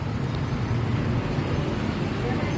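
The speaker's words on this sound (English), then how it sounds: "You can see the garbage truck in the distance there." A garbage truck rumbles low and steady in the distance outdoors, a muffled, continuous drone with faint traffic-like wash around it.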